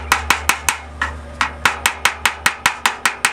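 A hammer chips slag off a fresh stick weld during a reel mower handle repair, delivering a rapid, steady series of sharp metallic taps, about fifteen close, loud strikes with no talking.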